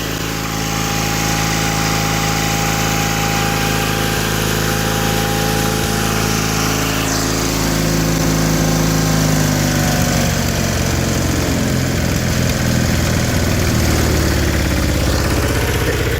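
A 1984 John Deere 316 lawn tractor engine runs at a steady idle close by, holding an even drone throughout, with no one talking.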